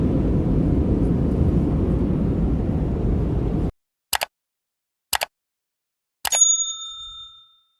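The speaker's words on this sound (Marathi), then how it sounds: "गुवाहाटी एअरपोर्टवरती आमचं विमान लँड झालं आहे." A passenger airplane landing at Guwahati airport gives a steady low cabin roar for several seconds, then near silence broken by a few sharp clicks and a ringing chime tone that fades out.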